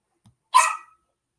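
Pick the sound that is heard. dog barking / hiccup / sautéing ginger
dog barking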